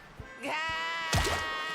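A goat in SpongeBob SquarePants: The Cosmic Shake lets out a loud, wavering bleat after a couple of soft thumps, with a second bleat overlapping the first.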